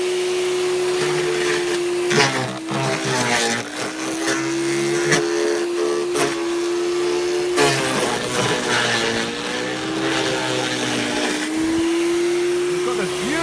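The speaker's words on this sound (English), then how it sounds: "the Ryobi shredder has done a pretty good job for me. I'm on my last few now, so I'm going to whack those through." A Ryobi garden shredder chews through garden cuttings, its loud motor whine holding a steady pitch with repeated dips and crunching bursts as branches are fed in.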